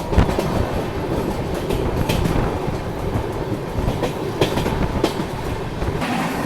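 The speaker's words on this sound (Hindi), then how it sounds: "हमारी ट्रेन जो है वो वाया अकोला मुर्तज़ापुर होते हुए नागपुर जो है वो पहुँचेगी" The Gondwana Express passenger train rolls along the rails with a steady rumble and rhythmic clickety-clack of the wheels over the joints, close and continuous throughout, with no talking.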